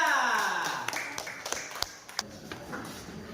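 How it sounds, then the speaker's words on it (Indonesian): A classroom of fifth-grade students claps briefly for a presenting group, with scattered, uneven claps and taps fading out after an opening tone-like sound. "Tepuk tangan untuk kelompok 3."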